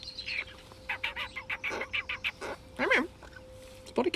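A pet bird chirps indoors, a rapid string of short, bright tweets and calls at close range over a faint steady hum, with a few louder squawks near the end.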